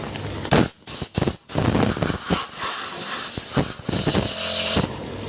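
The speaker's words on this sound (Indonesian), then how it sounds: "kita akan lakukan penyemprotan terlebih dahulu" Brake cleaner sprayed onto brake pads during routine brake servicing, a loud pressurized hiss in several short bursts followed by a long steady spray that cuts off abruptly.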